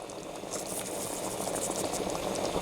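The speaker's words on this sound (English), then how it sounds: "here it is, starting to finally bubble up" Pork chili verde simmering in a pot, bubbling steadily and softly at close range with a continuous thick burble and no voices.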